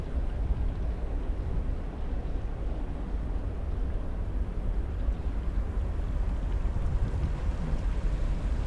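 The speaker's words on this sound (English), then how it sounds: "babbling brook." A small babbling brook fed by spring water gives a steady, continuous rushing wash that never lets up, with no talking over it.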